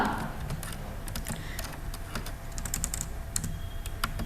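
Steady, close typing on a computer keyboard, rapid key clicks running continuously over a low room hum, with nobody speaking.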